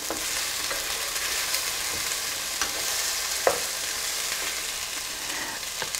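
Celery sizzles in a pan on medium-low heat for a sweet stew, giving a steady broadband hiss with a few faint scrapes of stirring and no talk.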